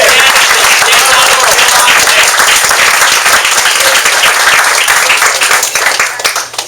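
Loud, dense applause fills a restaurant meeting room at a business networking launch event, with some voices mixed in, sustained throughout before tapering slightly near the end.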